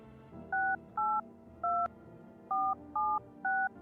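Six crisp touch-tone beeps from a telephone being dialed in the video game No, I'm Not a Human, evenly spaced in a short steady sequence over a faint low background, with no talking.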